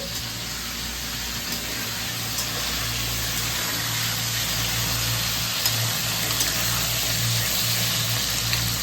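Crab pieces frying in hot oil, a loud continuous sizzle and hiss that holds steady and close throughout, with a low hum underneath and no voices.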